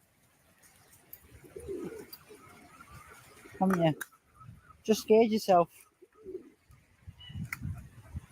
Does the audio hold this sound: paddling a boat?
no